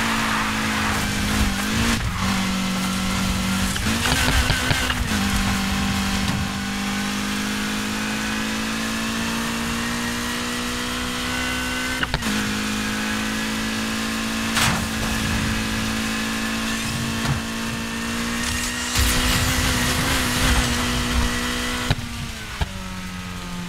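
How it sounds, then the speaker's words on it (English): Engine of a fast car revving and accelerating in the racing game Need for Speed Heat, loud and continuous throughout with shifting pitch from gear changes and occasional tire squeal. "God darn, this car is fast."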